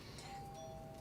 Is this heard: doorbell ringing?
yes